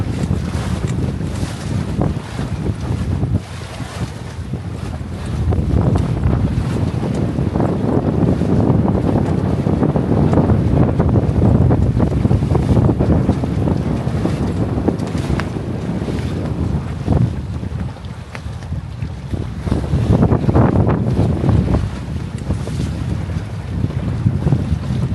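Strong wind gusts buffet a Catalina 22 sailboat sailing with one reef in the main, a loud constant roar of wind noise with water rushing, surging stronger in places, and no talking.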